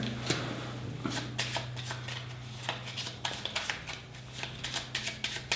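Playing cards are shuffled in a run of quick papery riffles and soft slaps, fairly close, over a low background hum.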